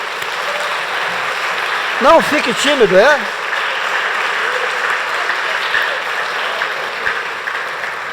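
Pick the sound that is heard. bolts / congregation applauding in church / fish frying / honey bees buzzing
congregation applauding in church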